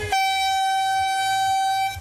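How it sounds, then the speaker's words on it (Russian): A loud, steady starting horn blares at a triathlon swim start on the Kazanka river in Kazan, one long tonal blast held for nearly two seconds over low rumbling background. "Гудок и первый рывок."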